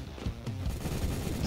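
Sharp, close bursts of gunfire in the game Roblox ring out as a quick cluster of loud cracks, coming one after another in a short, busy stretch.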